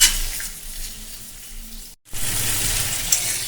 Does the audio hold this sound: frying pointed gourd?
yes